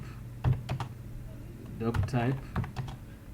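Rapid bursts of keyboard typing, close and clear, with a few separate key clicks in between.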